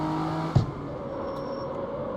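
Car engine in the CarX Street driving game holding a steady, throttled drone, with one brief thump partway through before the engine hum carries on evenly.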